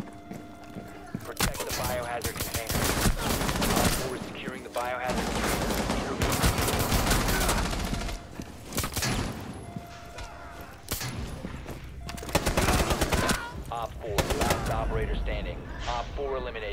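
Sustained bursts of automatic gunfire and scattered shots in a first-person military video game firefight, loud and dense, with voices talking over the shooting throughout.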